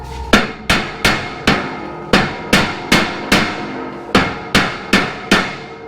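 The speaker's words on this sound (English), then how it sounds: "it's just a rubber hammer" A rubber hammer strikes a 1/4-inch aluminum plate for a pond drain grate, twelve loud, close, evenly spaced blows, each a sharp thud with a short ringing decay, no talking.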